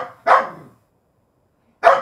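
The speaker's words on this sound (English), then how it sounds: "Why are you barking? There's a dog." A dog barks twice, loud and close, with a short silent gap between the two sharp barks.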